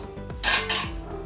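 A pressure cooker is set down on a stove while cooking tomato chutney, metal clinking and scraping against the burner grate in a couple of close, bright clanks, with no talk.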